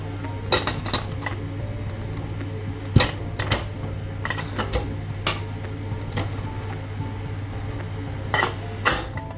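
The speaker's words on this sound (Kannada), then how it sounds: "ಸೊ ನಾವು ಇವಾಗ ಕುಕ್ಕರ್ ಮುಚ್ಚಳ ಹಾಕಿಬಿಡೋಣ" Metal clinks and clatters as a lid is fitted onto a pressure cooker while palak pulav cooks, several sharp taps scattered over a steady low hum, close and moderately loud with no talking.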